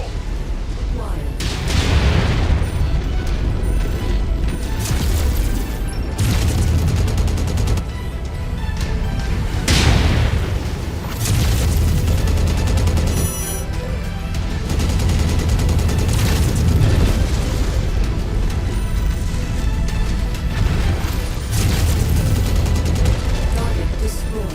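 Mechs exploding in the video game Mechwarrior 5, heavy booms and blasts recurring over a dense bed of weapon fire and rumbling combat, loud and continuous throughout.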